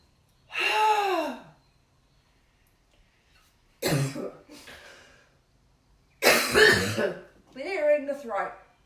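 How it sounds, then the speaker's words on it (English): A person clears their throat several times during a hatha yoga session, with separate rough, breathy bursts spaced by silence, some longer and more voiced than others, close and clear. "Clearing the throat."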